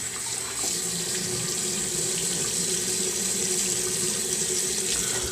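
A bathroom tap runs steadily into a sink during a wet shave with a loaded brush, a continuous close hiss and splash of water with no talking.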